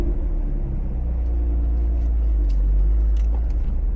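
A car fitted with a Borla Attack axle-back exhaust cruises along, a steady low engine and exhaust rumble heard from inside the cabin with faint road noise and a few light knocks.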